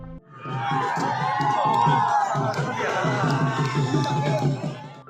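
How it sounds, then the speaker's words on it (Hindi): Supporters gathered outside a village polling station during the 2022 sarpanch election in Ranila chant slogans and cheer loudly, a dense crowd of raised voices with rhythmic shouting and applause that swells and carries on throughout. "मतदाता केंद्र की तरफ खड़ी समर्थकों के एक समूह से ऊंची आवाजों के नारे लगने शुरू हुए और तालियों की गड़गड़ाहट"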